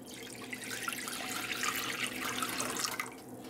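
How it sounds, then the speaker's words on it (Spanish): Water is poured into a cooking pot for dried peas, a steady close splashing trickle that fades out near the end. "Aquí vamos a poner un poco de agua."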